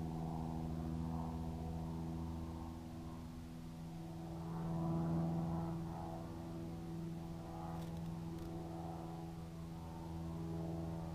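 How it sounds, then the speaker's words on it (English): A distant airplane drones overhead, a low steady hum that swells slightly midway and then fades back, with no voices. "Can hear the plane up there."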